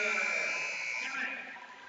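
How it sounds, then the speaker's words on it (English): A basketball game buzzer sounds at the end of the third quarter of a high school game, a loud sustained electronic tone for about a second before fading under crowd noise. "Beats the buzzer."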